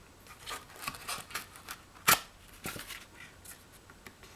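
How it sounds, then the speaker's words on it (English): A utility knife with a carbide blade cuts through thick Amazon shipping cardboard, giving a series of quiet scratchy scraping strokes with one sharper tearing rip in the middle, close and without talking. "Some cardboard here. Got some stuff off of Amazon. I want to fold this up. So what I'm doing, I just rip in it."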